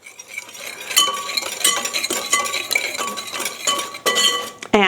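Metal utensil clinks and scrapes against a bowl while lemon zest mixture is mixed for a vegan blackberry crumble, a steady run of close, bright taps and chimes with no talking.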